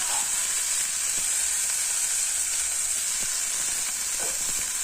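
Sprouted moong and matki frying with cumin and turmeric in a pan, a loud, continuous close sizzle with faint stirring scrapes and no talking.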